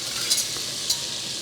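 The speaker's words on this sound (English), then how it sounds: "when the butter is foaming and sizzling" Butter melting and sizzling in a pan, making a soft continuous hiss with a couple of faint clinks, close and alone.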